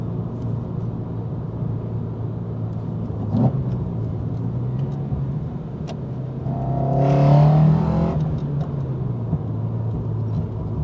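A Toyota 4A-G engine drones steadily from inside the car's cabin while driving, swelling into a loud rev around the middle before settling back to a low hum.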